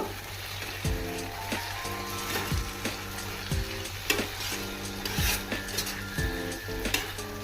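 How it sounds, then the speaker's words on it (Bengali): Chopped garlic frying in a pan for butter chili corn, a close crackling sizzle broken by repeated metal spatula scrapes and clinks against the pan, several distinct stirring strokes over a steady hum. "ও থেকে আমি একটু গার্লিক কুচানো দিয়ে দিলাম, কুচিয়ে আবার নেড়ে নেব"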